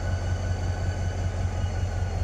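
Diesel locomotive, a GMU 30 hauling the KCR train, running at Dhabeji railway station near Karachi, giving a steady low engine rumble that holds evenly throughout with no voices.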